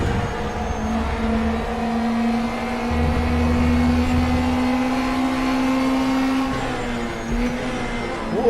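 An NSU TTS race car in the RaceRoom game at Hockenheim, its engine droning steadily and loudly with a rising whine through the lap, slight pitch shifts and a brief change near the end, no voices.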